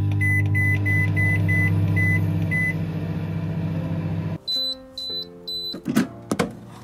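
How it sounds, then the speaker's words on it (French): A microwave oven hums steadily for about four seconds with a run of short beeps, then stops and gives a few louder end-of-cycle beeps followed by door clicks, close and alone. "on va passer au micro-ondes pendant 4 minutes"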